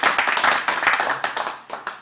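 A studio audience applauds during an evening news-and-entertainment show, giving a dense, steady clatter of many hands clapping close by for about two seconds.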